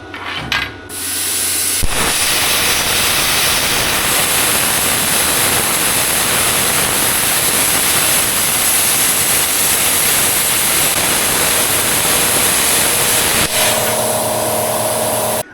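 An Arccaptain Cut 50 plasma cutter slices through an old, dirty manure spreader blade, giving a loud, steady hissing roar that holds for about twelve seconds between the arc starting and cutting off.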